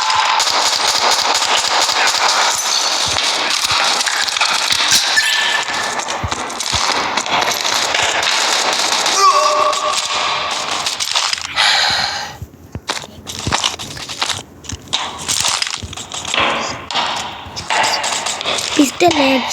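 Video game gunfire with pistol headshots: rapid, loud bursts of shots and sharp cracks that repeat densely across the whole stretch, under steady talking and some footsteps.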